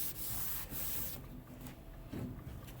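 Adhesive-backed sandpaper is rubbed back and forth across a flat surface in a steady, close, hissing abrasive scrub that briefly softens before one more stroke, with no voices.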